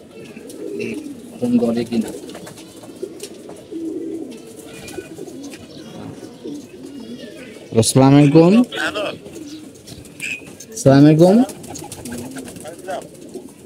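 Pigeons coo softly and repeatedly in the background while people exchange greetings and talk over a phone call; two louder bursts of voice rise above the low, throaty cooing.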